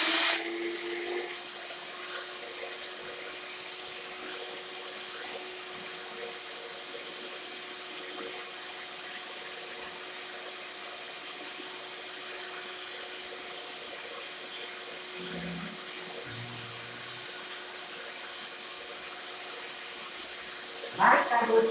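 An electric mixer beats a strawberry and grape mousse with a steady, faint whine. It continues without pause, with a louder burst at the start and brief handling noises near the end.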